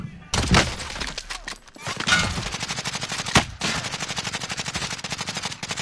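Gunfire in the video game Warzone: dense, rapid automatic bursts that keep going almost without a break, with a few heavier single blasts mixed in, close and loud.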